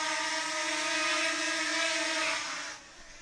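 A DJI Mini 2 drone's motors spin up into a steady, close whirring hum with a tonal buzz, holding for under three seconds before the sound drops away.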